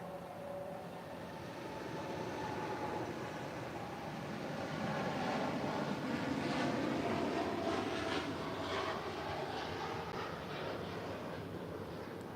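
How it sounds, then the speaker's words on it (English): A Boeing 747-8 freighter jet departs LAX for Luxembourg. Its broad, distant roar swells to a peak and then slowly eases off, with no voices present. "That was Cargo LAX 79 Zulu departing to Luxembourg on a 747-8 freighter"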